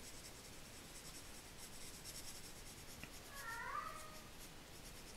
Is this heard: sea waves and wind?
no